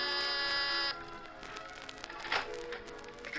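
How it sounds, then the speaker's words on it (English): A penthouse apartment door buzzer, played as a radio drama sound effect, gives one loud steady buzz lasting about a second before cutting off into quiet room tone. "you've got your finger on the door buzzer of Mr. Carr's cloud-high penthouse apartment"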